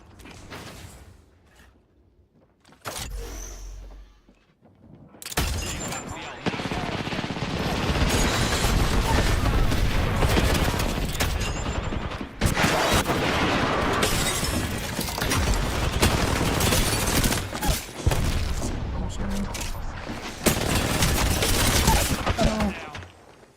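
Gunfire in the video game Apex Legends, sustained bursts of rapid shots and impacts with brief gaps, loud and dense, after a quieter opening with a few isolated sounds.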